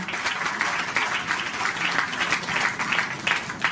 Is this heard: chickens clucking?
no